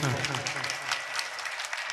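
An audience at a mushaira poetry recital claps in a steady, fairly close patter of hand claps that continues throughout, with a voice speaking faintly underneath at the beginning.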